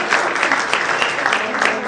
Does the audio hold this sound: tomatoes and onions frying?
no